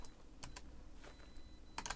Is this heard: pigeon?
no